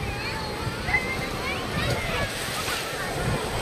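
Sea waves at a beach in Vung Tau, Vietnam, a steady washing surf with gusty wind buffeting the microphone, close and continuous while people talk over it.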